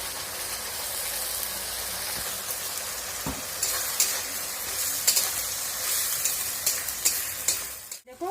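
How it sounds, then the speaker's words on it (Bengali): Spice paste frying in a pan with already-fried onions gives a steady, close sizzle with occasional stirring clicks and scrapes, continuous throughout with no talking. "পেঁয়াজটা ভাজা হয়ে গেছে এর মধ্যে আমি পেস্ট মশলার পেস্ট যে করে নিলাম সেটা দিয়ে দিচ্ছি"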